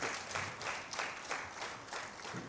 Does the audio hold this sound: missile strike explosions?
no